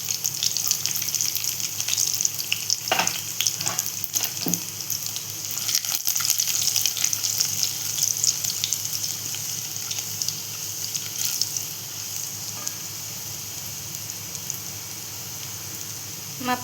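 Finely chopped garlic, five cloves, frying with cumin in a pan for a moong dal amti: a steady, fairly loud hiss and crackle runs throughout, with a few sharper pops and clinks near the start.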